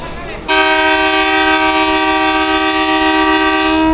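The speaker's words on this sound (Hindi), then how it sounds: "फर्स्ट डिपार्चर विसल हो गया" A train's departure whistle at Wazirabad Junction in Pakistan, one loud, sustained horn blast on a rainy early morning that starts abruptly and holds steady to the end.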